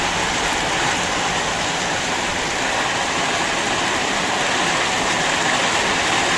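Steady heavy rain pours down in the first rain of the season, a dense, loud, unbroken hiss of water falling on surfaces, with no voices.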